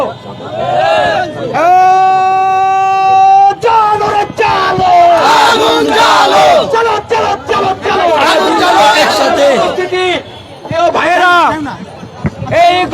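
A protest rally crowd chants slogans in loud, rhythmic call-and-response bursts, one voice leading over a megaphone with others answering in unison, close and sustained amid shouting.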